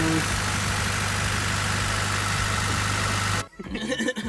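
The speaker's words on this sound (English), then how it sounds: "John got his car started, still leaking whatever power steering" A car engine runs steadily with a low idling hum and vibration, loud and close, then cuts off abruptly near the end, leaving quieter uneven sounds.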